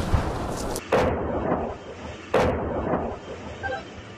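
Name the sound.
BM-21 Grad rocket launcher firing at Russian forces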